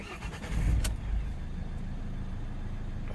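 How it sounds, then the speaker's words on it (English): A 2010 Ford Galaxy 2.0 TDCi diesel engine with a cutting-out fault cranks and catches with a brief whir and click, then settles into a low, steady idle close by. "and you start the engine"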